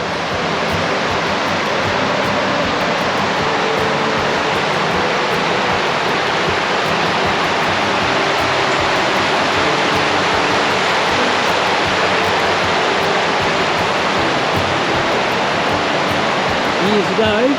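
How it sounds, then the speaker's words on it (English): Water pours over Chinchilla weir in outback Queensland, a constant loud rushing roar heard nearby and steady for the whole stretch. "Chinchilla weir."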